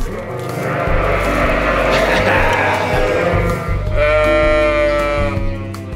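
A flock of ewes on a Charlevoix family farm bleats loudly and close, many overlapping calls sounding continuously with faint voices mixed in.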